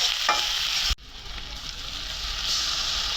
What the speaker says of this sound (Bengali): ওই তেলের ভিতরে পেঁয়াজ দিয়ে দিলাম